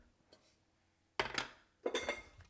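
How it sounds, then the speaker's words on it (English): A small portable butane stove and a pan are set down, with a couple of sharp metallic clanks and rattles in quick succession after a quiet start. "Let me bring out my little portable butane stove here and my"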